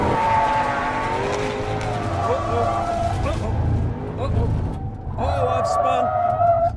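A small Fiat on a road trip spins out, its tyres squealing in long wavering skids over a steady engine drone; voices talk over the loud, close scene.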